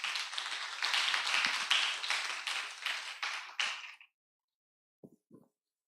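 A conference audience at an environmental health symposium gives a round of applause for about four seconds to welcome a speaker, the claps close and distinct, before a brief voice follows the silence.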